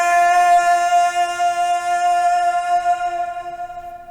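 A single sung vocal note, held steady and rich in harmonics, slowly fading away into a reverb tail over about four seconds, alone with no other instruments.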